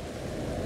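Steady rain falling in Agadir, a broad, even wash of rushing noise with no distinct drops or voices, heard for under a second.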